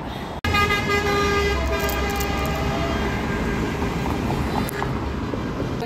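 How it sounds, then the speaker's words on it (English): Dense city traffic roars with car horns honking in solidarity with an actors strike, several overlapping tones sounding at once in a loud, steady wash with no pauses. "You can hear all the honking in solidarity right now."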